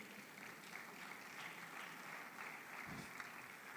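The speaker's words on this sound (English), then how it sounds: "let's clap for the gentleman as well." Audience clapping for a gentleman at a business community meeting, a steady, fairly quiet wash of applause from a seated crowd that continues evenly throughout without voices.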